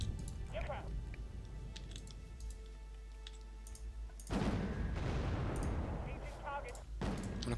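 Rapid aircraft strafing fire in the strategy game Wargame: Red Dragon, crackling bursts and a loud rushing sweep overhead mid-clip, with talking throughout.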